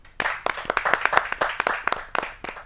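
Applause from an audience at a Hindi kavi sammelan, welcoming a poet to the stage: a crowd claps steadily and briskly for almost three seconds, fairly close and lively, with no voices over it.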